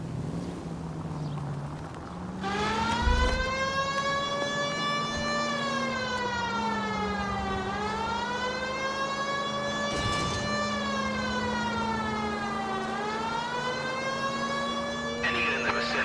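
Police siren from the video game L.A. Noire wails up and down in long sweeping cycles, loud and steady for the whole stretch, with a low engine drone beneath and brief bumps of other game noise.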